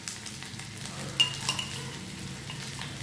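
Spiced potato curry sautéing with coriander powder and a spoonful of yogurt, a low steady sizzle with stirring scrapes and a few light utensil taps against the pan.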